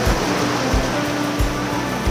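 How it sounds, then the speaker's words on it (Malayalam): A strong waterfall at Ponkunnam flows fast, making a loud, continuous broadband roar heard close by, with no talking. "നല്ല ഒഴുക്കുണ്ട്, നല്ല ഒഴുക്കാണ് ഇവിടെ"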